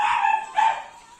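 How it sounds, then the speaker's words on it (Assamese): Pet dogs left alone all day bark and whimper in two short, high yelping bursts, close and fairly loud, with no talk. "মোৰ ডগীকেইটা মই দিনটো নাই কাৰণে কান্দি আছে"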